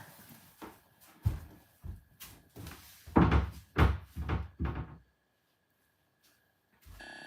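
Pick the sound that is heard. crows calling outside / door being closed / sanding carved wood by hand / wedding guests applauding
door being closed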